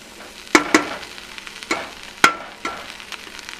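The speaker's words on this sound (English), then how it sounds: "let's stir this around a little bit" Healthy chili is stirred in a pot, with a handful of sharp spoon knocks and scrapes against the pot spaced irregularly over a faint sizzle, close by and with no talk.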